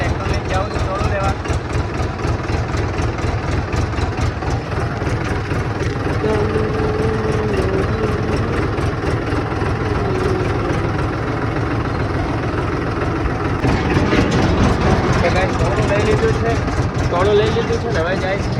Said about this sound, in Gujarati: ટ્રેક્ટર લઈને જાઉં છું ટોળું લેવા